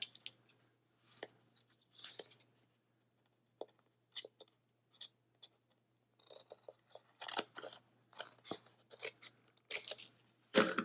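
Scissors snip through the paper covering of a handmade notebook, producing a run of crisp, close cutting strokes in short irregular bursts that grow quicker and denser toward the end, with no talk over them.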